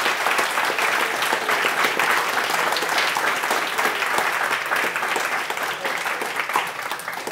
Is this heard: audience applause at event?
yes